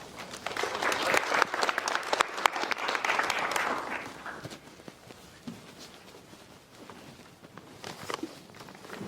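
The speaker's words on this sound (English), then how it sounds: "Everybody can give a round of applause." Audience at a Future Offices Summit applauding a speaker, dense loud clapping building in the first few seconds, then thinning to scattered claps and settling toward quieter room noise.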